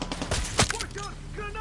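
A quick burst of gunshots in Far Cry 6 cracks out close and loud over about a second and a half, with one sharp blast standing out, mixed with game voices shouting.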